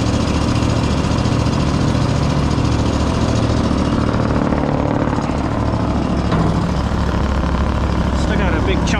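A towable wood chipper with a twin Honda engine idles low and steady, a loud continuous rumble that fills the whole stretch with no pauses.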